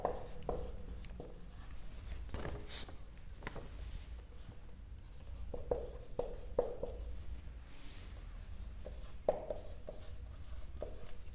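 A lecturer writing calculation values by hand, with soft scratchy strokes in short irregular bursts, quiet and close, with a faint steady background hum.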